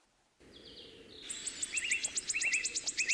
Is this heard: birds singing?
yes